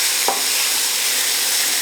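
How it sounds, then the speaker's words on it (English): Flour-dusted cubes of beef browning in a pan, a continuous bright sizzle with a single stir or scrape near the start, close and loud with no talk. "And now we can add the cubes of beef to the pan, just shake off the excess flour"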